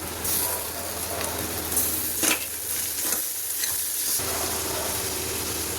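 Ginger paste, cumin paste, turmeric and chilli powder stirred in a frying pan, a steady close sizzle with scraping stirs running throughout, no talking.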